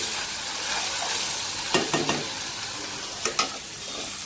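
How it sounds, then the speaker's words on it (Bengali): Ground spices, including cumin, frying in a pan with a steady sizzle, while a few sharp scrapes of stirring land in two short bursts. "এখন নাড়ছি, সব মশলা দেওয়া হয়ে গেছে, মশলাটা কষানো হবে কিছুক্ষণ"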